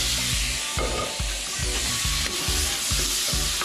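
Tomatoes stirred into a sizzling mung bean dish with glass noodles in a frying pan, a loud, continuous hiss broken by regular scraping strokes of the spatula.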